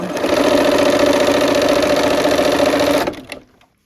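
A sewing machine stitches quilt fabric with the needle kept down, a steady loud mechanical whir running continuously for about three seconds before stopping abruptly, with no talking.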